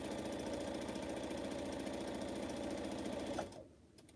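A sewing machine runs steadily, stitching quilt block seams for pineapple blocks at a rapid even rhythm, fairly quiet and close, then stops abruptly near the end, leaving a faint hush.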